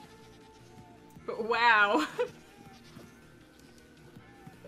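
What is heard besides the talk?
screaming goat bleating in the video game Minecraft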